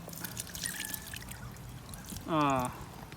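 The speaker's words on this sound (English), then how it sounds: "I'm gonna water it to see how well the water actually runs out of this." Water pours into a potted Drosophyllum lusitanicum carnivorous plant in a perlite mix, a soft trickle that swells into a brief, louder splashing gush near the end, heard close with no talk.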